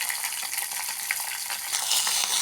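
Cumin, mustard seeds, curry leaves and green chillies fry in a little hot oil for a buttermilk soup tempering, a close, steady crackling sizzle that grows slightly louder toward the end.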